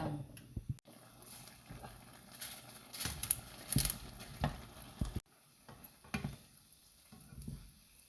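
Pancit ingredients fry in a small wok at home, a quiet steady sizzle broken by louder bursts of sizzling and the clatter of stirring.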